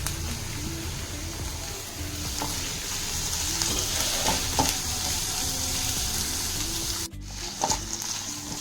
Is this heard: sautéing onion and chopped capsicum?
yes